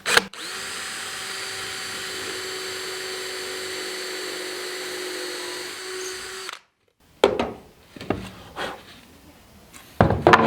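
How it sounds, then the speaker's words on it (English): A power drill bores a hole into wood for a cold-weather rabbit nest box, running as one loud steady whine for about six seconds, then cutting off, followed by clattering handling noises. "I'm gonna drill a hole in here so I don't split the wood."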